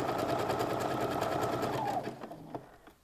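A sewing machine stitches tape onto a skirt, running steadily and close before slowing and stopping near the end.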